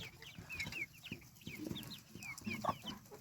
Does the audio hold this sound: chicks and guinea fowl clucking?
yes